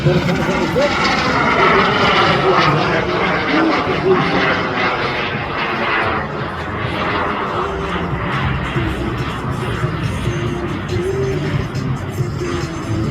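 A small microjet plane flies past at an airshow with a loud, steady engine roar that swells and slowly fades as it passes, with the announcer's voice over the public address.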